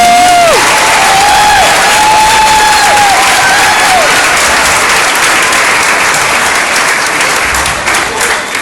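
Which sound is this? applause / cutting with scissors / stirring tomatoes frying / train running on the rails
applause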